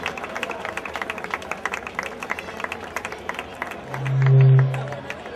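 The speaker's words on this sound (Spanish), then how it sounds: "Fuerte aplauso para ellas" Crowd applause for women's veteran podium finishers at a night-time popular running race awards ceremony in Rota, steady scattered clapping throughout, with a low humming tone swelling briefly near the end.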